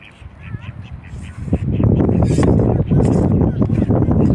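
Wild ducks, about fifteen mallards and two domestic ducks, quack near a woman feeding them bread and snacks outdoors abroad, their calls rising into a busy overlapping chorus as she talks over them.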